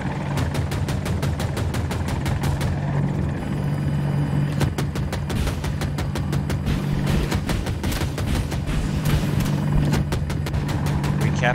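An attack helicopter in the video game Battlefield 2042 drones with steady, rapid rotor chopping throughout, loud and close, mixed with other battlefield noise and possible gunfire.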